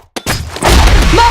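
A flash bomb detonating in a close-quarters shooter video game, a loud sudden burst that follows a brief click and swells into a sustained roaring blast.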